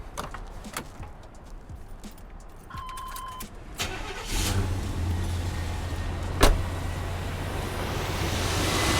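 A 1990 Chevrolet Silverado 1500 engine cranks and catches, then settles into a quiet, steady idle close by, with a brief sharp click partway through and no voices.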